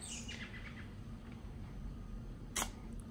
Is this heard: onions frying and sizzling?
no